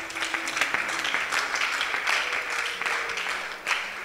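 A church congregation applauds to acclaim the Lord, sustained dense clapping with a few scattered cheers and a faint tone underneath, filling the room evenly.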